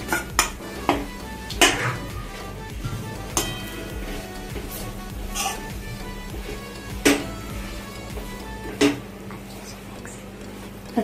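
Smashed potatoes being mixed in a pan for frankie tikki, with sharp intermittent clanks of a spoon striking the pan over a soft background hum.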